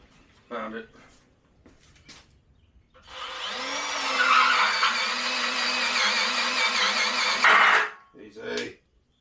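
A power drill whirs for several seconds during a welding table build, one long sustained run with a rising pitch near its end. Brief speech comes before and after it.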